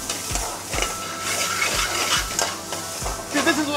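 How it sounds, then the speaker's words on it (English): Diced onions and spices such as cinnamon stick frying on a tawa, a loud continuous sizzle punctuated by regular metallic scrapes and clanks of stirring, about one every half second, with no voices. "I love this banging and clanging and the sizzling and the flames."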